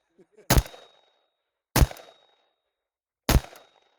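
Three sharp, loud gunshots from a Desert Tech MDRX rifle, spaced about a second and a half apart, each a crisp crack with a short decaying tail and silence between.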